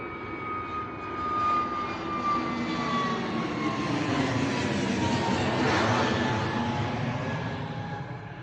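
An Airbus A320neo jet blasts down runway 09 at Bristol Airport on takeoff, a loud sustained engine roar that swells and peaks before easing slightly as it moves away.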